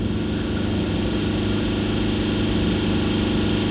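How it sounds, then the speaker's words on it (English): A Mercedes diesel engine held at raised revs during a blocked DPF cleaning, loud and close, with a constant low droning rumble and no pauses. "We'll hold the revs here now for somewhere between 2 to 5 minutes"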